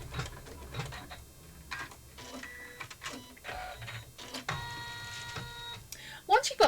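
Embroidery machine stitching a stained glass table runner, its rapid mechanical clatter coming in uneven bursts and pauses, mixed with a person talking.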